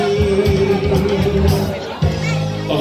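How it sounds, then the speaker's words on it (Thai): A concert audience at a pet festival applauds and cheers for a singer, with dense crowd noise and babble and a brief jump in level partway through. "ขอบคุณครับเสียงปรบมือยังเป็นกำลังใจนะฮะ"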